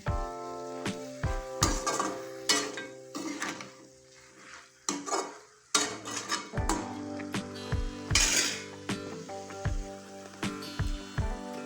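Large mushroom pieces frying in a pan at home, a steady sizzle broken by repeated sharp clinks and scrapes of a utensil against the pan, close and fairly quiet.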